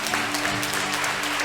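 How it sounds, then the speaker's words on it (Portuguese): A church congregation claps strongly in steady, dense applause at close range that fills the whole short stretch, with no talk over it. "Você pode aplaudir bem forte ao Senhor."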